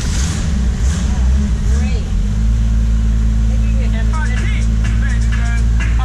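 A restored 1967 Ford Mustang convertible, engine flooded, runs with a steady low rumble while the throttle is held down, its note shifting partway through; voices talk over it.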